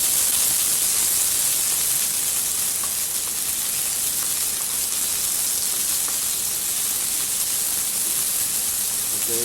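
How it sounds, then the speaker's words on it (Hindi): Onions sautéing in a pan for restaurant-style chicken jalfrezi, a steady close sizzle and hiss running unbroken throughout with no talk. "ओनियन ऐड कर दिया, तो जस्ट सूटे करना है"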